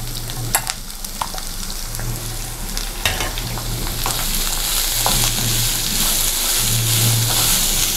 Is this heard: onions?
yes